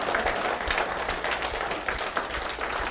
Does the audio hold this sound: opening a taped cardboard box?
no